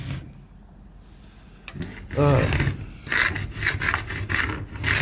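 Hard caulking is cut away from the rear window glass of a rusted car, making a rough, repeated scraping and rasping close by, starting after a quiet stretch and continuing in uneven strokes.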